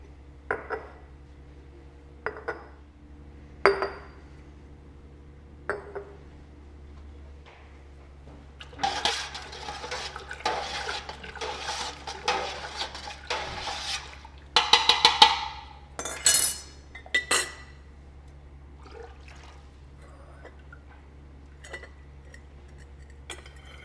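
Chicken bone broth is ladled into glass jars, giving scattered clinks of ladle against glass and bursts of liquid pouring and splashing, nearby and fairly quiet over a low steady hum.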